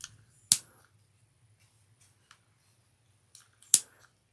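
Scissors trim excess fabric from a sewn bucket bag, with two sharp, crisp snips about three seconds apart and a few faint clicks between, close and alone in a quiet room.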